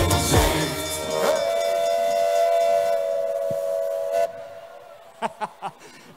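A steam train whistle sounds at a carnival sitting, a long steady loud blast lasting several seconds, then a few short thumps and knocks as it cuts off.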